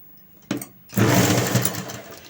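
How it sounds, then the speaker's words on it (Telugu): A sewing machine stitches the folded half-inch edge of a prince-cut work blouse neck, starting with a brief burst and then running in a steady, close, continuous whir. "చివరి నుంచి ఇంకొక స్టిచ్ వేసుకుందామండి"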